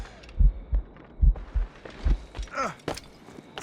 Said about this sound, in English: Moving keeps my heart beating.